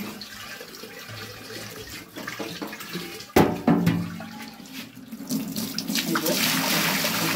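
Water splashes and sloshes inside a clay water pot as it is rinsed clean, with a sharp knock midway and a steady pouring rush building toward the end.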